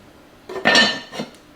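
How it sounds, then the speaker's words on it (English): A lid set back onto a pot of simmering vegetable soup gives one close metallic clatter with a brief ringing clink, followed by a smaller settling knock. "we're gonna put the lid back on this and let it finish."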